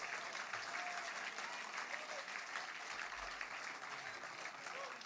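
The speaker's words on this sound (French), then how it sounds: "Et je crois qu'on peut l'applaudir" A political rally audience in a Paris concert venue claps steadily, a dense, even wash of applause that holds at a moderate, somewhat distant level throughout.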